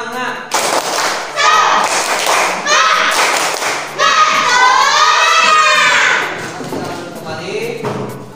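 A class of students stands and performs the tepuk semangat chant, loud rhythmic group clapping mixed with children's chanting voices in bursts, close and lively throughout.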